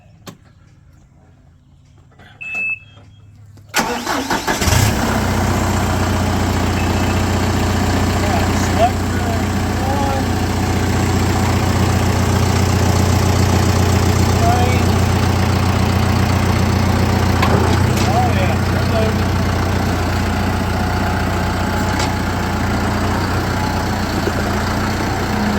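A John Deere 5100E tractor diesel engine cranks and fires after a few seconds of near silence, then settles into a steady, loud, close idle that runs without letup.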